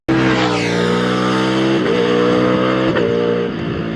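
A Ducati Streetfighter V4 S motorcycle engine revs hard and loud throughout, its pitch sweeping upward in a high, singing wail with brief dips as it climbs toward redline, no voices present.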